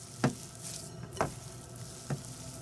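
Sausage ball mixture with almond flour being mixed in a bowl: three separate soft, squishy thumps about a second apart, close and fairly quiet with no talking.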